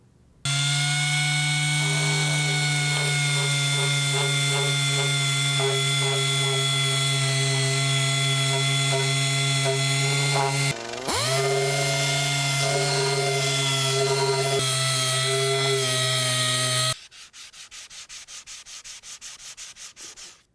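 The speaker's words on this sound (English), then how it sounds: "I'm going to use a sander to remove this material" A power sander grinds down a carbon foam trailing-edge repair on a Hartzell composite propeller with 150-grit paper, a loud steady whine running nearly continuously, briefly dipping once midway, then dropping to a lower rasping hum near the end.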